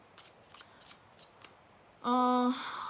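Tarot cards are shuffled by hand in several quick, crisp riffling bursts, followed by a sudden sustained tonal chime that rings out to the end.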